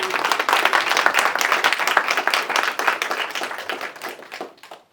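Loud, full audience applause at the close of a lunch-and-learn talk, dense clapping sustained for several seconds before tapering off at the end.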